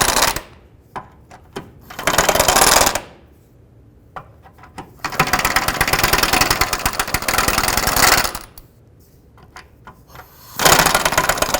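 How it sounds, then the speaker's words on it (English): A power tool loosens the front driveshaft bolts on a 2005-10 Jeep Grand Cherokee in three loud, close bursts of rapid rattling hammering, separated by quiet gaps with small clicks and handling noises. "I'm going to go ahead and loosen these bolts a little bit more."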